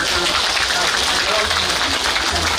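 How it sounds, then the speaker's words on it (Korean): Audience applause for a married couple at a crowded outdoor performance venue, dense and steady throughout, with a loudspeaker voice and background music running underneath. "이 두 부부에게 박수를 보냅니다"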